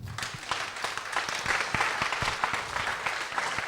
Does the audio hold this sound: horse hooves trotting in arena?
no